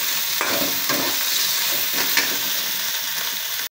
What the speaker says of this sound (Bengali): মশলা ভুনা হলে দিয়ে দিলাম বাইন মাছ